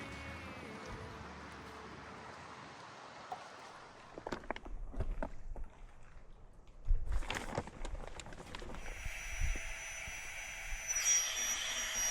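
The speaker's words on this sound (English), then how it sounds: "Think how much it would suck to be packed into that airplane up there." A jet airliner passes high over a remote wilderness lake campground, heard as a steady distant roar with faint rustling and a few knocks close by.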